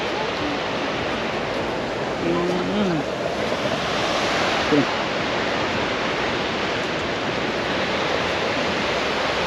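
Sea waves at Tel Aviv beach give a steady, broad wash of surf, with brief voices faintly heard partway through.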